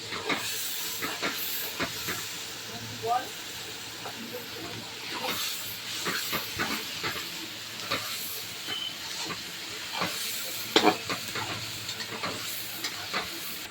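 Ginger-garlic paste fries in hot oil, giving a steady, close sizzling hiss that runs throughout, broken by light scraping and stirring clicks.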